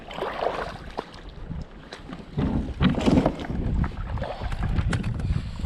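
Gusty wind buffets the microphone in uneven rumbling bursts at a backcountry lake beside a beaver dam, with rustling and splashing water sounds mixed in; no voices.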